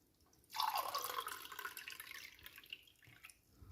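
Water pours into a cocotte pot while a cooking dish of bakoula (mallow) is prepared, a steady splashing stream starting after a brief pause and running on, trickling and easing toward the end.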